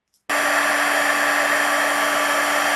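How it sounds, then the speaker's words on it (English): A heat gun blows hot air onto foam to melt craters, starting abruptly after a brief silence and then holding a loud, steady whirring hiss with a constant tonal whine. "How long you focus the heat gun on the crater will determine how deep the crater is."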